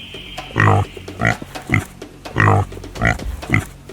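A pig grunts again and again in loud, close, rhythmic bursts, with a deeper drawn-out grunt coming back in a steady pattern.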